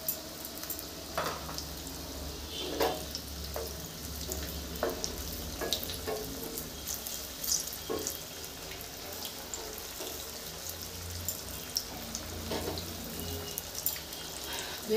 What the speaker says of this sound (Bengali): ভেজে দেখাচ্ছি।